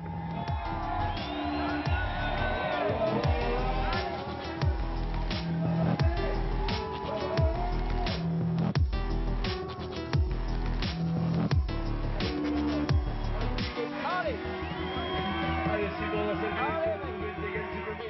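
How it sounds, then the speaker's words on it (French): A French crowd cheers and shouts encouragement at an ice climbing World Cup stage in France, a steady loud roar of voices with whoops, punctuated by rhythmic clapping or thudding beats throughout. "Malgré les encouragements de la foule française en liesse"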